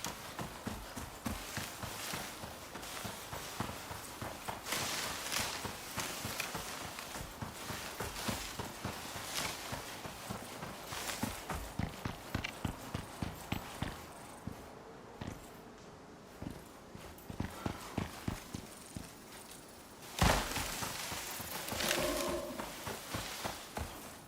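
Horse hooves clip-clopping in the survival video game Icarus, an aggressive horse moving at a walk and then a trot, with steady rhythmic hoofbeats close by, faint overall, and no voices.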